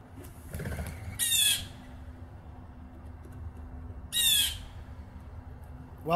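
Two harsh, loud blue jay squawks ring out about three seconds apart from a nearby bird, set against quiet outdoor background with a soft thump at the start.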